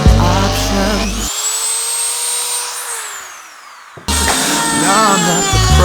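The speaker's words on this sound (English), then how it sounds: "we're just going to incrementally open this hole up with the Dremel, and then I'm just sort of cutting away the plastic swath" A Dremel rotary tool cuts away plastic on an electric mountainboard build, a loud high-pitched whine that spins up, dips and rises again, broken by a brief lull in the middle.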